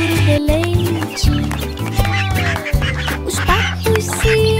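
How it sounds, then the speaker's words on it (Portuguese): Ducks quack repeatedly in a bouncy rhythm within a children's farm song, mixed with music and other barnyard animal effects, fairly loud throughout. "Os patos se alinharam para grasnar,"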